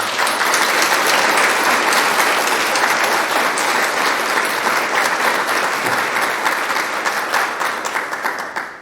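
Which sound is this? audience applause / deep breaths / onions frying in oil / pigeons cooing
audience applause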